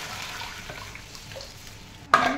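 Onion and tomato fry softly in oil for upma, a low quiet sizzle with light stirring, then hot water is poured in near the end, setting off a sudden loud hissing burst.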